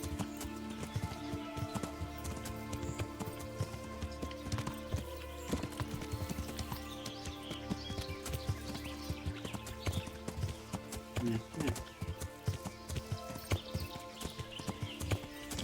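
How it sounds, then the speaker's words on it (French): Hooves of a horse-drawn cart in the Kingdom Come: Deliverance video game clop in a continuous, moderately quiet rhythm, with wheel and harness clatter and a brief whinny, under a dense game soundscape. "Ouh, il y a une charrette."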